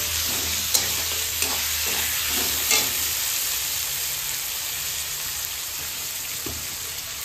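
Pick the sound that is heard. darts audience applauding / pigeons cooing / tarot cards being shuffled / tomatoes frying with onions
tomatoes frying with onions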